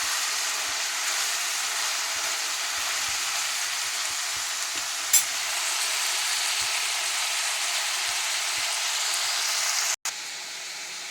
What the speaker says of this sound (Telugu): కేజీ బీరకాయలు తీస్తే వచ్చిన బీరకాయల పొట్టు వేగుతున్నాయి